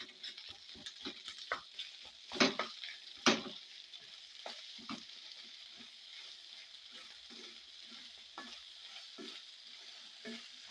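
Meal maker chunks and egg frying in a pan, a soft steady sizzle broken by a few close scraping stirs of a utensil against the pan.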